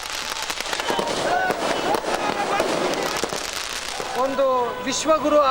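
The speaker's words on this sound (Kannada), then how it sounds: "ಬಿಜೆಪಿ ಕಾರ್ಯಕರ್ತರು ಪಟಾಕಿ ಸಿಡಿಸಿ ಸಿಹಿ ಹಂಚಿ ಸಂಭ್ರಮಿಸಿದರು" Firecrackers set off by BJP workers celebrating a swearing-in ceremony in Delhi, at a city traffic circle in Ballari; sharp cracks and bursts running throughout amid crowd noise, with voices and a rising whistle-like tone near the end.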